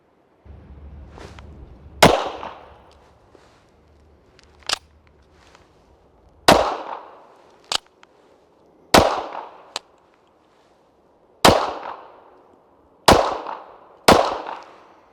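A Tisas Raider pistol firing hollow point ammunition: about eight sharp, loud single shots at irregular intervals with pauses between them, a few fainter clicks and clacks in the gaps, and a low rumble at the start.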